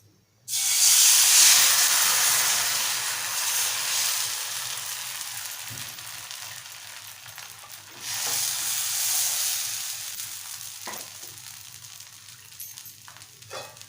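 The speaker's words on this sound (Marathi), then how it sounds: "आता आपण घावणं घालून घेऊया आणि गॅसची फ्लेम मोठीच ठेवायची आहे" Malvani-style ghavan rice batter hits a hot pan on a high gas flame with a sudden loud hiss, then keeps sizzling steadily up close, swelling again midway before easing off, with no talking.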